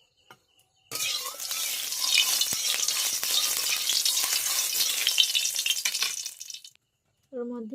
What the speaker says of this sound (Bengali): ওর মধ্যে সয়াবিনগুলো দিয়ে দিচ্ছি, দিয়ে ভালোভাবে ভেজে নেব